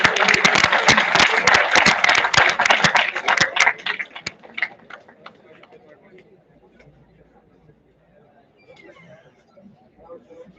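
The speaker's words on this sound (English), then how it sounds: "let's have a huge round of applause." Applause from a student audience at an international conference stage ceremony: dense, loud clapping for about four seconds, then fading into scattered claps and low crowd murmur.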